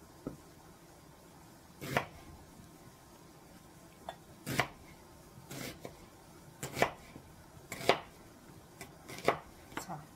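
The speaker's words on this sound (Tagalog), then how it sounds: "Ang hiwa ng onion, guys, ito ang gagawin nyo." An onion being cut with a knife on a board, about a dozen quiet, irregular chopping knocks with a soft background between strokes.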